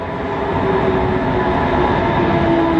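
Train at a railway station in Germany, a loud continuous rumble of rolling stock with a faint steady tonal whine running through it, close by and without talking.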